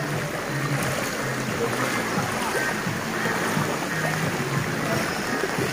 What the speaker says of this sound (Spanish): Miren el río que les digo,